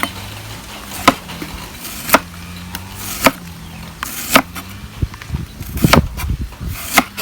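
Sharp knife chops through shallots and lemongrass on a board at an irregular pace, each a crisp close thud, with faint outdoor background hum between cuts.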